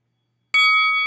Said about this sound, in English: Boxing bell.